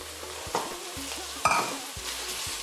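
Minced meat, about half a kilogram, frying with golden onions in a pan for Nigerian meat pie filling, a steady sizzle broken by a few brief stirring scrapes.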